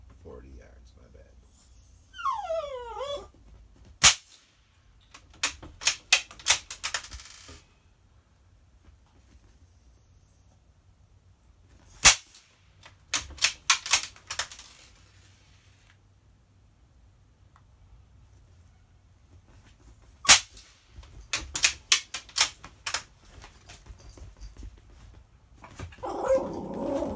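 Suppressed-sounding cracks from a Savage Mark II .22 rifle firing CCI Quiet rounds outdoors, three sharp isolated reports spaced several seconds apart, each followed by a short burst of clicking bolt or action noise, with birdsong and faint background rustle.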